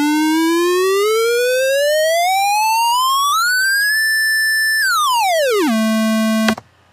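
A synthesized pitch riser built in NI Massive within Ableton Live sweeps steadily upward in a loud, continuous buzzy tone, holds at the top, then slides back down and cuts off abruptly, with no voices present.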